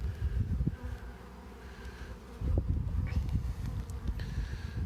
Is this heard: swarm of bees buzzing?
yes